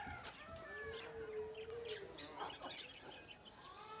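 Chickens cluck and chirp softly at a distance, several calls overlapping in a quiet outdoor setting.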